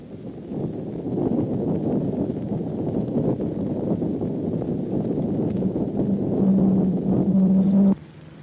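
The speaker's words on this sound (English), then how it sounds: "A Jeep makes this sound." Doppler return signal from an X-band radar tracking a Jeep: a steady, dense rumbling buzz with a low warbling hum, continuous for about eight seconds before cutting off abruptly.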